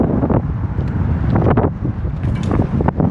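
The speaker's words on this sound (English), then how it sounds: "Super windy." Strong wind roaring and buffeting the microphone continuously during a bike ride at Brushy Creek, Austin, loud and close, with gusts rising and falling throughout.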